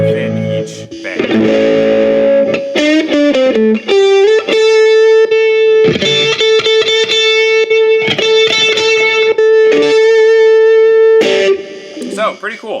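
Electric travel guitar through a high-gain distortion preset, loud and saturated, playing sustained chords and held single notes with choppy rhythmic bursts, alone without talk.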